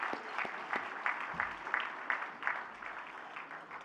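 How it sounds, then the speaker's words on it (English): Audience at an awards evening clapping, a scattered patter of hands with distinct individual claps audible, moderate and fairly even throughout, with no speech over it. "Give an applause, ladies and gentlemen."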